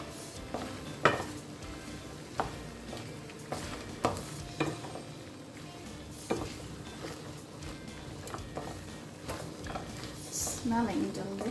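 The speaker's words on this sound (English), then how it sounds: "we're going to fry our stir fry for a further 3 minutes" Vegetables with sugar snap peas or mangetout stir-frying in a hot pan, a steady sizzle broken by stirring scrapes and occasional clacks of utensil on pan, with a voice speaking over it.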